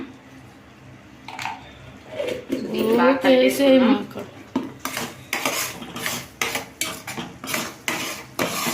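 A semolina laddu mixture is stirred in a pot, giving a run of close metallic scrapes and clinks of a utensil against the pot at a steady rhythm, with a short burst of speech partway through.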